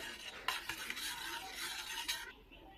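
Ingredients for homemade neem soap are stirred together in a container, a steady faint scraping swish with a few sharper knocks of the utensil, no voices.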